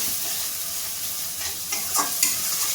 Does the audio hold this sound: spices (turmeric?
yes